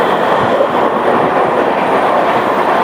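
Amrit Bharat Express passenger train running between Amritsar and Saharsa, heard from inside as a loud, steady rumble of wheels on rails rounding a curve, with a constant roar and faint rhythmic clatter.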